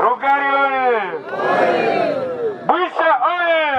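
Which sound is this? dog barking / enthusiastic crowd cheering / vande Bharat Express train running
enthusiastic crowd cheering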